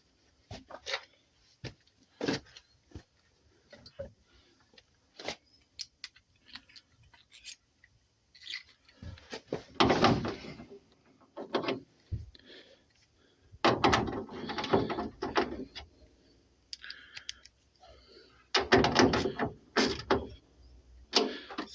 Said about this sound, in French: Pour une clé plate de 10 et puis on va visser ça ensemble.